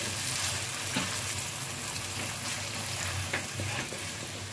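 Finely chopped onions frying in hot oil for a chicken salan, filling the pan with a steady, dense sizzle that stays close and even throughout, with an occasional faint stir.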